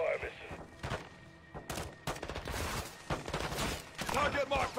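Artillery fire mission striking in a military shooter video game, rapid heavy booming impacts and gunfire crowding together across the whole stretch, loud and dense, with voices mixed in among the blasts.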